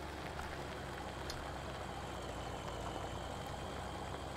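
Tractor engine in the farming video game Farming Simulator, a steady low droning rumble idling continuously and evenly throughout, with no voices over it.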